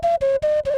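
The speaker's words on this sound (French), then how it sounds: "c'est le principe de la flûte native américaine." A homemade plastic Native American style flute plays four quick breathy notes in a row, each separated by a short gap, loud and close with no other sound.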